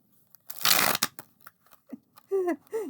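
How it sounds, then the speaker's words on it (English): A stiff, brand-new uncoated tarot deck is riffled in one short burst, followed by scattered card taps and a few brief vocal sounds nearby. "let's see how the uncoated one shuffles compared to the coated one"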